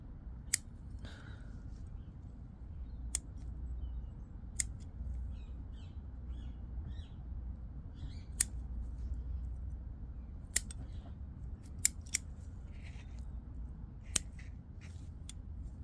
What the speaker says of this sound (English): So let's just get these scissors out.